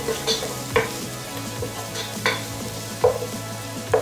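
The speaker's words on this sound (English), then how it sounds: "saute that" Fresh atarodo peppers sauté in a pot over reduced heat under a soft continuous sizzle, while a spoon scrapes and stirs in several distinct, fairly loud strokes roughly every second or so.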